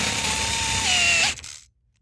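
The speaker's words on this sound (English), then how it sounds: "So I'm going to drill this, try and do it nice and straight." A power drill boring a hole for a Time-Sert thread repair insert, a steady close whine that dips slightly in pitch under load, then winds down and stops.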